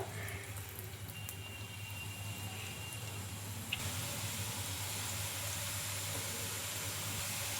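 Murukulu dough pieces sizzling steadily in hot oil in a kadai, a continuous close frying hiss with a low hum underneath that grows slightly louder and brighter after a brief click as more pieces go in; no talking.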